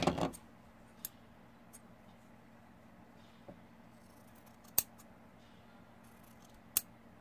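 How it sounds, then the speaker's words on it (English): Scissors cut through cosplay waistband fabric in a quiet room, with a quick snip at the start and a few sparse, sharp clips spaced seconds apart. "I'm going to cut the center back of the waistband."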